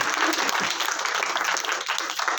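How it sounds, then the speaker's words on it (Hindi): An audience at a ghazal concert with tabla and keyboard claps loudly and steadily, the applause holding at an even, dense level throughout. "जोरदार तालियां फिर से हो जाए इसी बात"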